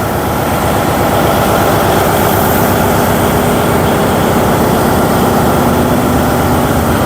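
A loud, steady, deep engine drone fills a passenger launch's engine room without a break, heavy low rumble with a dense mechanical roar above it.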